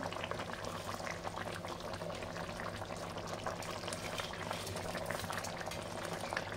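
A pot of Bengali curry bubbles at a steady rolling boil, a dense continuous burble and pop of thick gravy held at an even, close level throughout with no voices.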